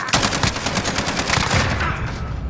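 Rapid automatic gunfire in a Call of Duty match, dense overlapping bursts crackling nonstop and loud throughout, with no voices.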